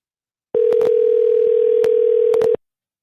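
A steady, loud telephone tone holds for about two seconds while a call back is placed, starting and stopping abruptly with a few faint clicks along it.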